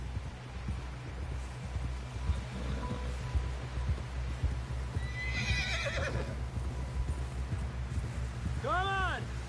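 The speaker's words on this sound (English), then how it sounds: "Someone help John down off this horse" In Red Dead Redemption 2, a horse whinnies near the end, with rhythmic hoof clops and a steady background rumble throughout.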